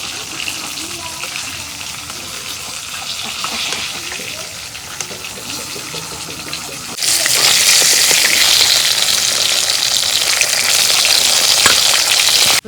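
Pangas fish frying in hot oil in a home kitchen, a steady crackling sizzle that jumps sharply louder partway through and stays bright and hissing to the end.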